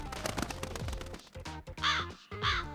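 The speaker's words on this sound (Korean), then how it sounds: "내가 까마귀 소리도 구별 못할까봐?" Harsh crow caws ring out in a video game, two loud bursts near the end after a busy stretch of game music and effects.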